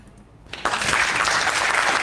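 Brief applause on a podcast, starting after about half a second of near quiet and then a steady patter of clapping that holds to the end, moderately loud and close.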